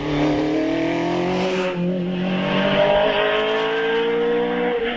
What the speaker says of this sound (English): Most of these Mallocks ran 1700 cross-flow Ford engines